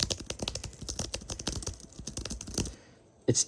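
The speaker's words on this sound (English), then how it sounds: "The typing is pretty good." Quick, steady typing on a Logitech MX Keys for Mac scissor-switch keyboard, soft muted clicks in a fast rhythm, ending in a brief pause and one final louder tap.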